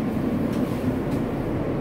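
An R68 NYC subway train on the D/B line running during rush hour, rerouted through Second Avenue Q-line stations, gives a steady low rumble with a faint hum and a couple of soft clanks, loud and close, with no voices.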